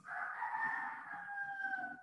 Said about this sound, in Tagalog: Pero yung manok namin, tunog pa rin ang tunog.